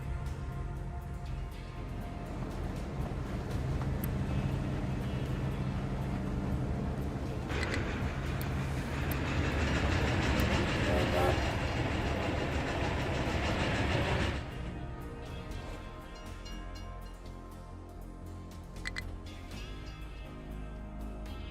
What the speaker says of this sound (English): Coal train's working.